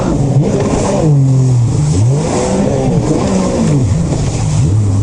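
A Sea-Doo RXP X jet ski engine revs loudly and close by, its pitch rising and falling in several surges over a steady roar.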